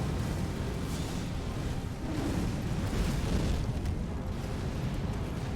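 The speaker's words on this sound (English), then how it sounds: "His head can explode." An enemy in Elden Ring with a bowl-like head that keeps exploding gives off continuous rumbling, booming blasts, a dense roaring wash with slight swells rather than distinct separate bangs.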